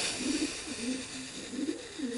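Racing pigeon cooing at a champion fancier's loft in Sintești, Ilfov, Romania: soft, low repeated coos in a steady rhythm, close and fairly quiet, with no talk over them.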